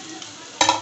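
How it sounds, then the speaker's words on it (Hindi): Sesame seeds and chillies dropped into hot oil for lehsuni palak burst into a sudden loud sizzle after a quiet stretch, crackling close and bright until the end. "अब हम इसमें तिल डालेंगे, तिल। साथ में मिर्ची भी डाल देनी है"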